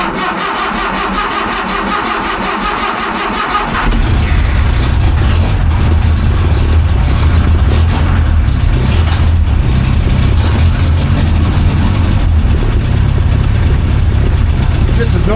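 Hillman SuperMinx car engine cranking on choke, catching at about four seconds and then settling into a steady, loud, rough idle that continues to the end.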